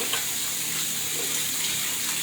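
Tap water runs steadily into a sink while someone rinses their face, a close, even hiss with faint splashing and no voices.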